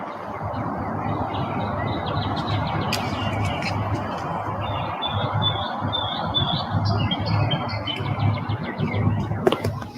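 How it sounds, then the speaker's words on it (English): Birds chirping and squawking intermittently late at night over a steady low hum and distant traffic, with the calls sounding fairly faint. "you can hear all these birds late at night"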